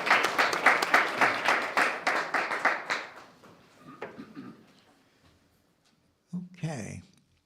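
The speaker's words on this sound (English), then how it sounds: "We got a round of applause." Audience applause at a Board of Education meeting, a burst of clapping from the room that is loud at first, thins out after about three seconds and fades to a few scattered claps, then a voice speaks briefly near the end.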